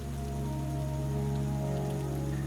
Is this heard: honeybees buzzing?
no